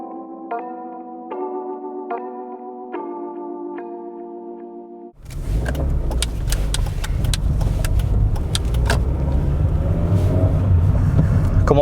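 A Honda Jazz city car drives with a steady engine and road rumble that builds after a quiet opening of soft musical tones, with scattered clicks and knocks from the cabin and no talking.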